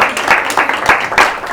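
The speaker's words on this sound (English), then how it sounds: "Round of applause." A short burst of applause from an audience at a talk on imposter syndrome, uneven and swelling in a few waves over under two seconds.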